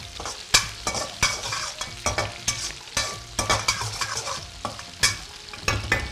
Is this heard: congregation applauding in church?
no